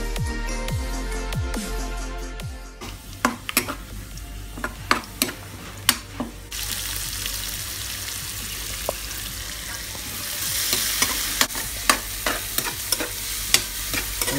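Seafood fries and is stirred in a hot pan, with steady sizzling under sharp clicks and scrapes from a utensil against the metal at irregular intervals.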